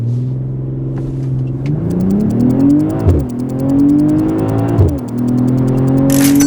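A 380-horsepower BMW M340i Touring launches hard from a standstill on a snowy road, its engine note climbing loudly through two quick upshifts, each marked by a brief dip before the pitch rises again, with no talking.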